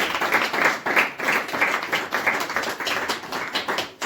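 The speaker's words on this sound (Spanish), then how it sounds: "Una ofrenda de palmas al Señor." A church congregation clapping hands together during a sermon, a lively irregular patter of many claps at moderate volume that runs continuously without voices.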